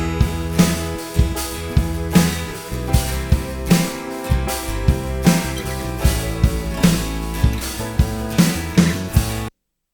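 A deep, full replacement snare drum sample with matched overhead room ambience, struck in a steady groove of roughly twenty hits alongside kick and cymbals, loud and close with a natural room tail.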